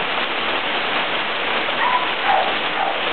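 A dog barks a few times in the distance during a Pensacola thunderstorm, faint short yelps rising over a steady, close hiss of heavy rain falling on surfaces.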